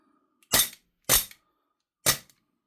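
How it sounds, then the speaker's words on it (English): Gen 5 magazine for a Glock-style GHK Gen 3 airsoft pistol, three sharp close metallic-plastic clacks spaced about half a second to a second apart, otherwise near silence. "We will try the Generation 5 magazine in a Generation 3 pistol."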